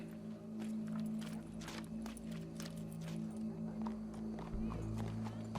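A horse's hooves clip-clop at a walk in Red Dead Redemption 2, soft irregular knocks over a steady low game hum and ambient drone throughout.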